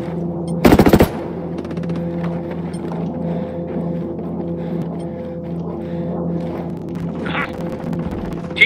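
A single short, loud burst of gunfire near the start in the Ghost Recon Breakpoint video game, then a steady hum of game ambience with faint distant sounds.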